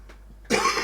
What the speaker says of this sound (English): I got a cold, so I have to cough and sniff